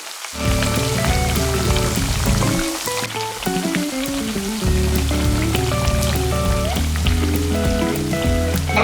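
Onion vadas (ulli vada, onion bajji) deep frying in plenty of hot oil, a steady loud crackling sizzle with dense popping bubbles, close up throughout.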